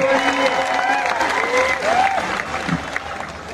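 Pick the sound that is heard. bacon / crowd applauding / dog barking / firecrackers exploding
crowd applauding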